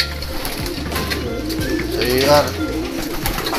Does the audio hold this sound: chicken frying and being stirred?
no